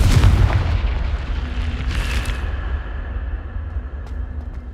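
A Confringo fire-blast spell exploding in Hogwarts Legacy, a loud booming blast at the start that rumbles and fades into a lingering low tail.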